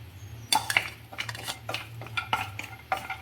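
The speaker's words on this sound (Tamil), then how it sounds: "இதை இந்த நெய்யிலேயே வறுத்து வச்சுக்குவோம்" Cashews and raisins being stirred and roasted in ghee in a pan, heard as scattered metallic clinks and scraping of a utensil against the pan, with a faint steady hum beneath.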